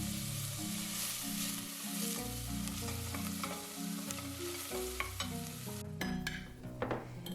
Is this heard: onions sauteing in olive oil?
yes